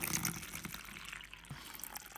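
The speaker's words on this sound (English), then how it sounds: "since you guys love the sound of water so much" Water poured from a container into plastic deli cups while watering pet tarantulas, a steady close trickle and splash that fades to softer dribbling over a couple of seconds.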